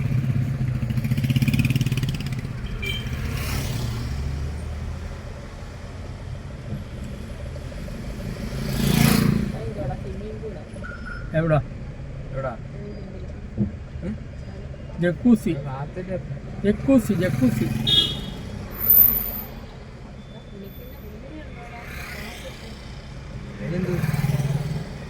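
Vehicle traffic at Konni Central Junction, a busy four-way road junction, with a steady engine rumble and passing cars and motorbikes swelling now and then, heard beneath continuous talking.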